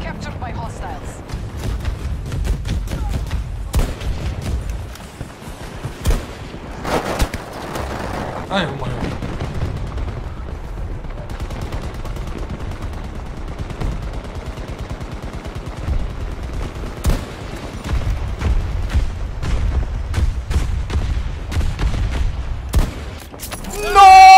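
Gunfire in the Battlefield 2042 video game, rapid bursts of automatic shots and scattered single cracks throughout, loud, with someone talking over it.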